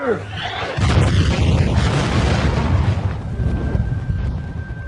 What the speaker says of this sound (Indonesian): mobil ambulan itu meledak dan Jung-jae mati dengan mengenaskan